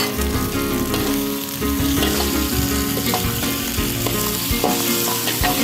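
Squid eggs frying in a pan at home, a steady, loud sizzle with occasional stirring clatter and no talking.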